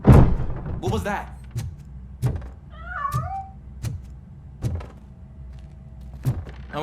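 A cat meows a couple of times in the RoboCop Rogue City video game, amid regular heavy mechanical thumps of footsteps and occasional voice.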